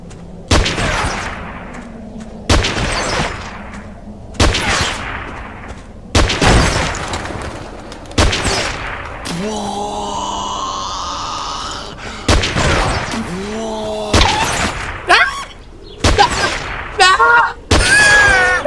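Gunfire in the PS2 shooter Black: heavy, booming shots and bursts at irregular intervals, loud and close, with game sound effects between and a player talking over the action.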